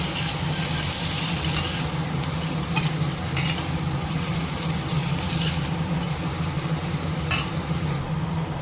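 Chutney ingredients sauté in a hot pan, giving a continuous close sizzle with occasional sharper crackles and stirring scrapes throughout. No voices are heard.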